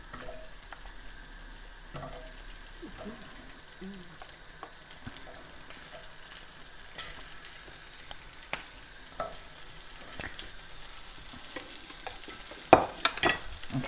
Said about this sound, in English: So you want to chuck your onions in